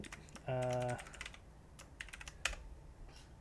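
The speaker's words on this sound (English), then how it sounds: "type in my incredibly sophisticated password" Keys tapped on a computer keyboard while entering a login password on a Linux desktop PC, a short run of quiet clicks alongside a brief tonal beep, faint and close.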